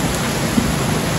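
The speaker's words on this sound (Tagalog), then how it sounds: "Grabe yung lakas ng ulan dito." Heavy rain pouring steadily near Vista Mall in Taguig, a dense, loud, continuous hiss of water on surfaces with no pauses, heard alone.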